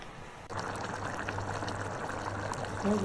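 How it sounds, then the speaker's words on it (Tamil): Ground masala mixed with water being poured into a simmering pot of mutton curry, a soft continuous liquid pour beginning after a brief pause, close but quiet, with no talking. "நம்ம அரைச்சி வச்ச மசாலாவை அதில் அப்படியே ஊற்றிடணும்"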